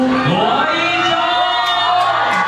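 A dense crowd of fans cheering and whooping at a red-carpet arrival of Ding Zhen at an Asian music awards event, a loud continuous roar with shrill shouts, brief and steady throughout.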